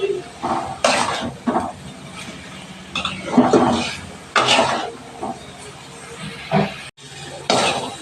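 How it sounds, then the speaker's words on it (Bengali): A spatula scrapes and stirs curry being sautéed in a pan, in separate bursts several times over a quiet sizzle, with a cough-like sound mixed in. "বন্ধুরা নেড়ে চেড়ে একটুখানি কষিয়ে নিলাম।"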